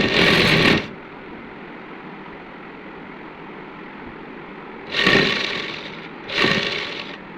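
A sewing machine stitches a housecoat in three short bursts, the first and longest right away, then two brief runs near the end, with quiet room hum in between.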